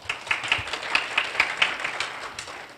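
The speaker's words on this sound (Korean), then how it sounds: "귀한 시간을 내주신 총장님께 큰 박수 부탁드립니다" Audience applause for a university president at a campus lecture event, a sparse, rhythmic clapping with crisp individual hand claps close by, fairly steady and moderately loud.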